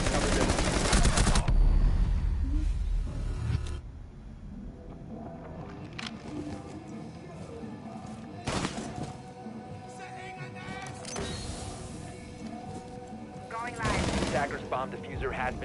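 Gunfire in a Rainbow Six Siege match played on PS4, with a loud opening burst of shots followed by sporadic sharp reports and game ambience, while excited commentators talk over it.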